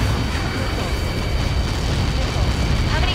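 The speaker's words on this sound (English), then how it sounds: "How many got caught in that explosion?" An explosion in the video game Ace Combat 7 rumbles as a dense, continuous roar of blast noise with a heavy low end, loud throughout and holding steady rather than fading.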